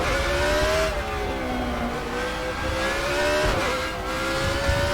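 A Judd V8 hillclimb race car engine in the RaceRoom racing game screams at high revs, its pitch climbing through the gears with quick dips on shifts, loud and continuous with no talk.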